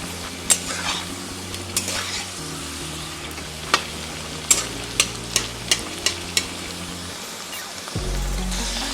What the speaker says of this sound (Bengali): একেবারে হালকা আঁচে আমি ভেজে নেব।